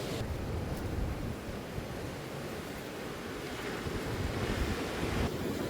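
Ocean surf washes onto a rocky shore as the tide comes in, a steady broad roar of breaking waves mixed with wind buffeting the microphone, fairly faint and continuous with no voices.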